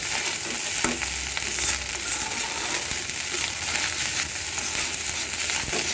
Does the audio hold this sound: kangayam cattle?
no